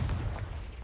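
A Confringo fire spell blasts in Hogwarts Legacy, giving a short, loud, booming burst with a heavy low rumble that stays dense through the whole moment, with no talking over it.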